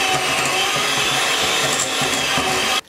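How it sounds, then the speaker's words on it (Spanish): An electric mixer beats cake batter with plenty of grated orange zest, a loud, steady, grinding motor whir that runs continuously and cuts off abruptly just before the end. "Y batimos."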